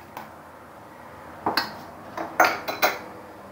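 A small spoon clinks against dishes of freshly made gooseberry jam several times: one light tap, then a cluster of sharp metallic chinks close together, with quiet pauses between.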